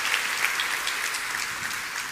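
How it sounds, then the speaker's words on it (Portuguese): A church congregation applauding, a steady wash of many hands clapping at moderate distance, continuous with no talk over it. "dá uma salva de palmas ao Senhor"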